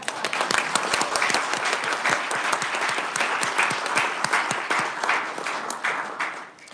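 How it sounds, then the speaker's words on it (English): Applause for children from the audience at a state House Committee on Education hearing, steady dense clapping that carries on for several seconds before fading at the end. "we will allow clapping for children"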